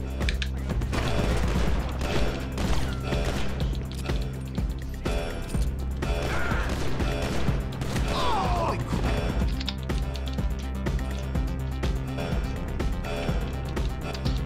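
Gunfire during a casino heist in GTA Online, with dense bursts of shots, impacts and crashes repeating continuously and fairly loud under game sounds.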